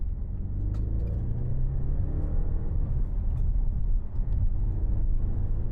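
A 2014 Audi RS7 with a twin-turbo V8, driven in manual and dynamic mode, accelerates hard with a deep, steady engine rumble heard from inside the cabin, and no one talks over it.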